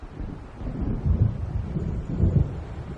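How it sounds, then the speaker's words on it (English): Low, rolling thunder from an approaching storm in the Alan Wake video game, with two heavier rumbles swelling out of a steady windy roar. No voices. "It seems there's a storm coming."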